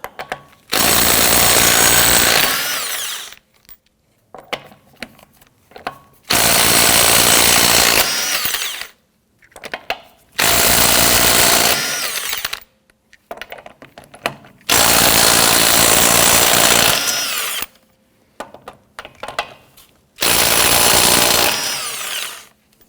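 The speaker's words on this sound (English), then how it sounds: "Using a 21mm socket, loosen and remove your lug nuts." An impact wrench with a 21mm socket loosens and removes the rear wheel lug nuts on a 2017-2020 Hyundai Elantra, hammering in five loud, close bursts of about two to three seconds each, separated by short quiet gaps.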